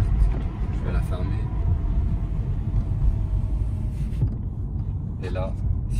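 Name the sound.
Mercedes E350 CDI diesel engine heard inside cabin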